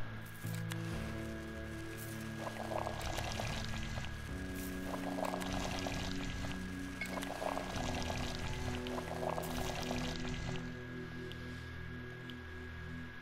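Water pouring in the video game Pathologic 2, a continuous steady stream of liquid over a looping game soundscape with a faint tonal hum, running the whole time without speech.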